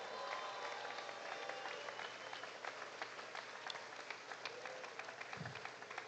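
A large outdoor crowd at the Fancy Farm community gathering in Kentucky claps steadily and fairly loudly for the whole stretch, with dense continuous applause and no break.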